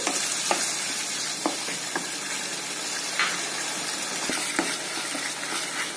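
Masala for Malabar chicken dum biryani sautéing in a pan, a steady sizzle and frying hiss broken by intermittent scraping stirs and clinks of the spatula, close and continuous with no talking.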